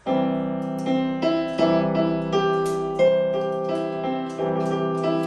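Plain melodic line of sustained instrumental notes over a steady low tone, each note starting with a soft attack, moving at an even, unhurried pace.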